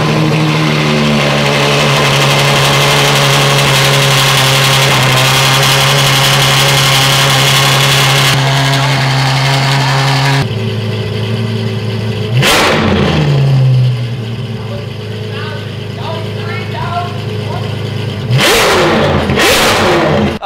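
Ferrari 812 Superfast fitted with a Ryft titanium exhaust idles with a loud steady drone, then cuts off and gives sharp, very loud revs that rise and fall, all close up with no talk.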